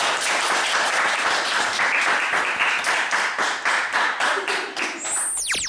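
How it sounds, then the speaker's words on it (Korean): Students in a classroom clap together at the end of a lesson, a dense, steady burst of close applause lasting several seconds before it breaks off. "박수 치면서 마무리하겠습니다."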